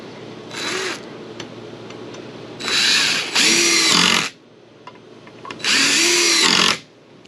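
A power drill drives long screws into tiny house wall framing, several whirring bursts of a second or so each, rising in pitch as the screws bite, close and loud between quiet pauses.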